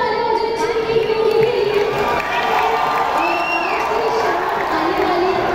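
A large crowd at the Deva fair cheers and shouts, with children's voices rising through a continuous roar, loud and sustained throughout.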